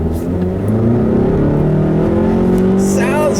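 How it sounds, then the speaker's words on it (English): A 2018 Mazda3 Grand Touring compact car's engine revs loudly and steadily, its rising drone held close for a few seconds, with a person talking over it. "a non-enthusiast might not want an engine that's quite this noisy"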